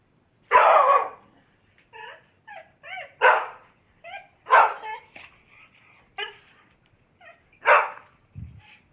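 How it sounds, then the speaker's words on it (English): A dog barks repeatedly and up close, loud sharp barks interspersed with shorter yips and whines, with no talking. "Well, stop barking"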